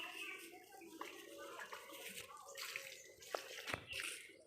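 Water splashing and trickling steadily as a mother waters potted plants in a home garden, with soft drips and a few sharper splashes near the end, close and fairly quiet.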